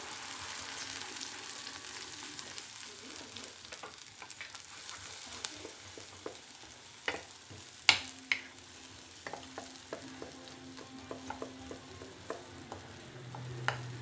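Raw masala paste sautés in oil for omelette curry, a low steady sizzle with scattered light taps and scrapes of a spoon, quiet and close, with no talk.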